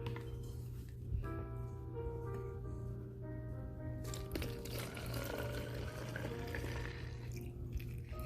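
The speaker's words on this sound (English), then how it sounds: "we'll just pour it in our spray bottle" Homemade disinfectant is poured from a container into a spray bottle, a thin trickling pour running on and off for several seconds against a steady low hum, close and fairly quiet.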